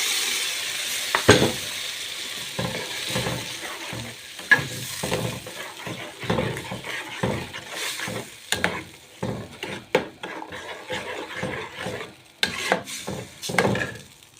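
Tomatoes frying in a pan for Egyptian koshari, stirred with repeated scraping strokes over a steady sizzle, close and moderately loud.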